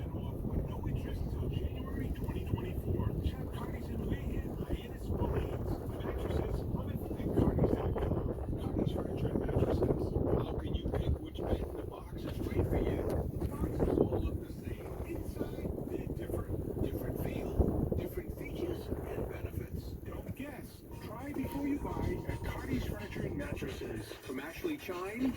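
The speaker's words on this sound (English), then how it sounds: "See, the wind now picked up" Wind gusting across a small river boat on Bass River, a steady low rushing roar that swells and buffets the microphone throughout, with people talking over it.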